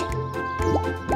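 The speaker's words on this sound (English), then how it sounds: "Lots of bubbles!" Cartoon bubbles pop and plop in a quick series of wet, bright blips with rising squelchy tones, a lively playful burst from a children's animation set at a lake.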